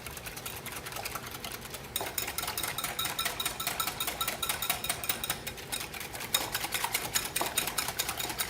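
A whisk beats a thick, creamy batter in a bowl before flour is added, giving a fast, steady rattling of wire against the bowl, continuous and close for the whole stretch with no talk.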